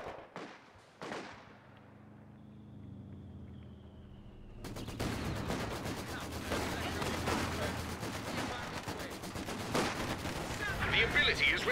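Machine gun fire in the Company of Heroes 2 strategy game on an industrial warzone map: a couple of early shots, then sustained crackling automatic fire and battle noise rising steadily, with a game voice speaking early on.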